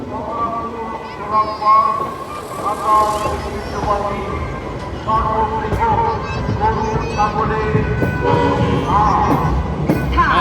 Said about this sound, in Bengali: আমাদের ট্রেনটি ছুটে চলছে